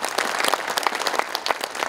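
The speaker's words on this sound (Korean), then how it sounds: "여러분, 다시 한번 두 노래에 큰 박수를 보내주시면 대단히 고맙겠습니다" Concert audience applause after two songs at a memorial concert for President Park Chung-hee's 105th birthday, a brisk, even burst of many hands clapping in a hall.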